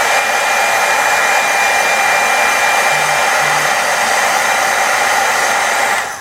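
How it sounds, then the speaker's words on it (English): A craft heat gun warming up before heat embossing roars in a loud, steady, close-up blast of hot air that runs unbroken and then tails off at the end. "I do like to warm up my heat gun just a little bit beforehand"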